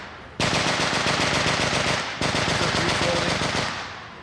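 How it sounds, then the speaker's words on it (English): A Maxim machine gun fires in two long, rapid bursts with a brief gap between them, each a dense, loud stream of shots at steady cadence, heard fairly close outdoors. "We have the Maxim machine gun running in the back"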